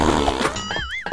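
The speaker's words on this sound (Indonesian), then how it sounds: "Itu bunyi apa tadi? Bunyi kentut." Cartoonish fart sound effect from the Roblox game Pompom Purim's Prison Run Obby, a brief loud blubbery burst that ends in a wobbling, squeaky whistle-like tail.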